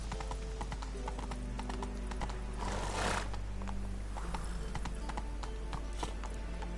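Horse hooves in the video game The Witcher 3, a rapid, steady clip-clop of galloping with a brief whinny-like burst midway, heard alone over continuous game ambience.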